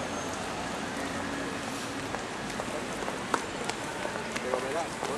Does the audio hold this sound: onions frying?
no